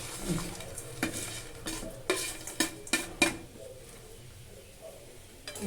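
Banana mixture for kuli pitha stirred in a pan, a spoon scraping and knocking against the metal in a run of sharp, close clacks and scrapes over a faint sizzle, fading to quieter stirring.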